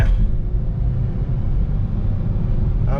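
Ford Escape with a 2.0 turbo engine accelerating on the road, a steady low cabin rumble of engine and road noise heard from inside, no talk.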